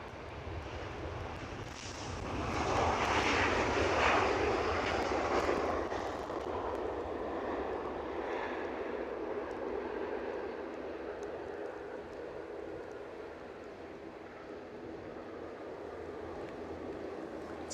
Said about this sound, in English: 737-800 inbound from Amsterdam Schiphol